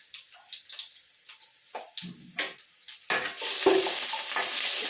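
Ginger and garlic fry in a pan for a vegetable sambar, with scraping stirs and soft clatters at first, then a sustained loud sizzle takes over toward the end.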